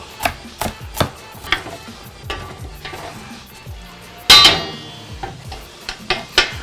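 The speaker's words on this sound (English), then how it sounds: "I'll just chop it all." A knife chops food on a board in quick irregular strikes, loud and close, with one sharper clatter partway through and the faint sound of kitchen activity behind.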